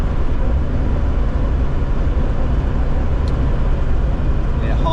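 Steady, loud interior road noise inside a moving Land Rover Defender 90, a constant broadband engine and tyre rumble with no breaks, heard alone without talk.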